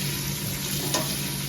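Vegetables sauté in a pot for a vegetable stew, giving a steady hiss of frying close by with one faint stir or scrape partway through and no talking.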